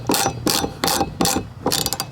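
Ratchet tightens a nut on a Jeep wiper blade spline shaft, five quick bursts of clicking strokes in an even rhythm, close and fairly loud with short pauses between.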